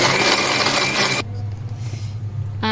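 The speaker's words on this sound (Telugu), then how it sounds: "మిక్సీ పట్టుకుందామండి" A kitchen mixer grinder whirs loudly and steadily for just over a second, then cuts out, leaving a low hum and faint clicks before a short burst of whirring returns at the very end.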